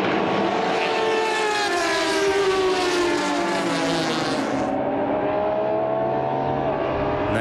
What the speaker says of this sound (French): Avantage BMW au départ de la deuxième course avec les deux M3 silhouettes du KS Motorsport qui prennent les devants